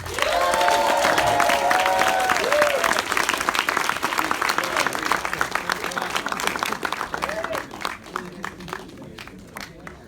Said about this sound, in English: A big round of applause for Ernest Dickerson.